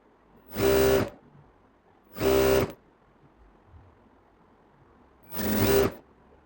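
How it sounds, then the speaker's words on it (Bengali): Electric sewing machine stitching a kameez side seam straight downward, three separate bursts of steady motor whir, each about half a second to a second long, close and fairly loud with quiet pauses between. "এই সাইড সেলাই দিয়ে একবারে সোজা চলে যাব নিচ দিকে"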